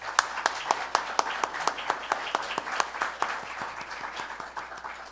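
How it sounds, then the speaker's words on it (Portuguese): Audience applause welcoming a speaker at a literary talk in Portuguese: steady clapping from a room of people, moderately loud and fairly close, with distinct individual claps over a continuous wash. "eu queria, então, pedir a todos um aplauso de boas-vindas para Caio Junqueira Maciel."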